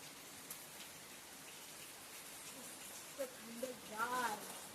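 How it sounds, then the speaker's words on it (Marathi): Rain falls in a Konkan village in summer, a steady soft hiss of drops at moderate distance throughout, with brief bumps and a short vocal sound near the end. "पाऊस पडलो,"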